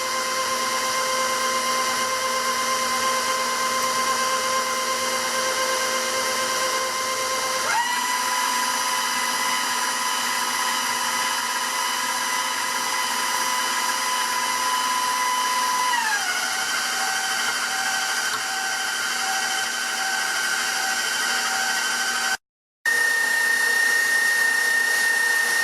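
Electric hand mixer whipping cream with three tablespoons of powdered sugar, a steady loud motor whine that shifts pitch partway through as the cream stiffens, running continuously with a brief cut near the end.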